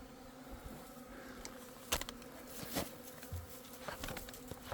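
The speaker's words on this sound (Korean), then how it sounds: "자, 이게 전부 도봉이에요." Drone honeybees buzzing in a swarm at a hive entrance while hornets hover nearby, a steady faint hum with a few brief louder passes near the microphone.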